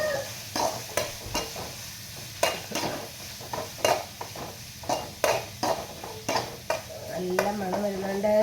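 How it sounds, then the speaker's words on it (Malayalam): Upma ingredients with onion, green chilli and curry leaves being stirred in a pan: regular spoon scrapes and knocks about every half second over a light sizzle, with a voice coming in near the end. "ഇതെല്ലാം കൂടി ചേർത്ത് ഇളക്കി"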